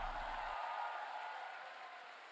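An audience at a lecture hall applauds in a continuous hissing wash of many hands, fading gradually over a couple of seconds.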